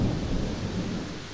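Rain and thunder in a Minecraft-style multiplayer game server, a steady loud rumble of thunder over a dense rain wash, fading slightly toward the end with no talk.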